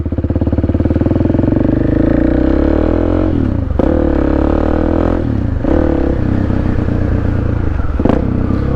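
A 2021 KTM 690 SMC R supermoto's single-cylinder engine revs loud and close, a steady throbbing idle broken by several sharp throttle blips that rise and fall, with no talk over it.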